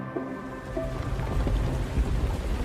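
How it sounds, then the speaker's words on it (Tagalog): Heavy rain pours steadily in a dense, continuous wash with no voices, holding at an even, fairly loud level throughout. "bumuhos ang malakas na ulan"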